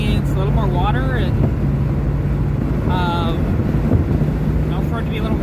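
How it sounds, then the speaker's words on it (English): Wind buffets the microphone on a countryside road during a Mustang cruise, a steady low roar with car noise beneath, while people talk over it. "it's windy"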